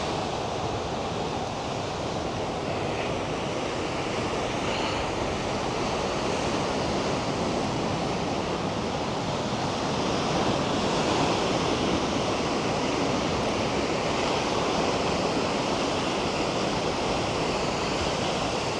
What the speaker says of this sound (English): I'll have a look at waves today.